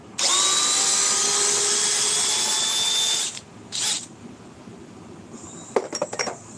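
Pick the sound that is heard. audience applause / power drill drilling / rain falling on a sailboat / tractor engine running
power drill drilling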